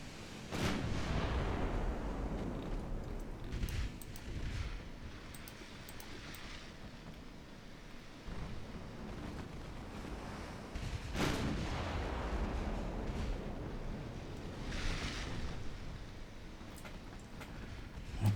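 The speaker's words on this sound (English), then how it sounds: "My cruisers are opening fire, yep." Cruiser guns firing in the naval game Ultimate Admiral Dreadnoughts: a few heavy booming reports stand out, near 0.5 s and 11 s, over a continuous low rumble of wind and sea. No voices are heard.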